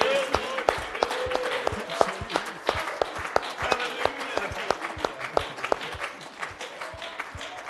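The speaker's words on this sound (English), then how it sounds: "Come on, give him a hand clap of praise." A Pentecostal church congregation claps hands in praise during Sunday morning worship. The claps come fast and fairly even, close and dense as applause, with faint voices underneath.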